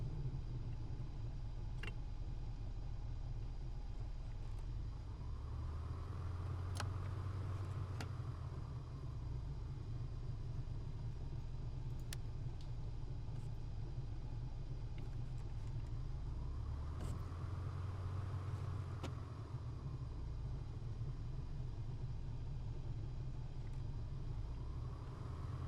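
Just Flight PA-38 Tomahawk in MSFS 2020 rolling along a runway, a steady low engine rumble with soft recurring swells and a few faint clicks, quiet and continuous.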